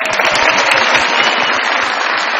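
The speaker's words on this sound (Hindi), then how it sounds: "बहुत सारी तालियां" Applause from a studio audience on a Pakistani comedy talk show, celebrating a guest from Gujranwala winning a motorcycle. It is loud, dense and sustained, with no talk over it.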